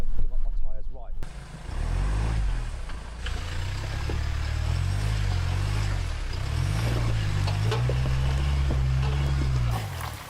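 A car pulls away and picks up speed, its low engine rumble rising and falling steadily up close, with a brief voice at the start.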